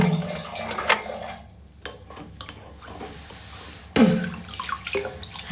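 Face being washed with face wash and running water: splashing and trickling from a tap, with sharp knocks and clatters of a sink or basin, close and uneven.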